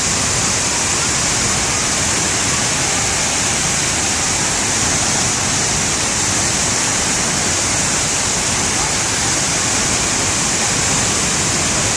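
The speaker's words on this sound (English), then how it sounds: "The famed Arenal waterfall, so beautiful." The Arenal waterfall in Costa Rica roars as a loud, steady, unbroken rush of falling water, dense and constant throughout with no other sounds standing out.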